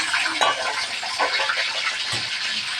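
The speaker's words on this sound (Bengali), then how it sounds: "তেল গরম হয়ে গেছে, দিয়ে দেবো চিংড়ি মাছ।" Prawns going into hot soybean oil in a pan give a busy, close crackling sizzle, mixed with light clinks of a utensil against the cookware.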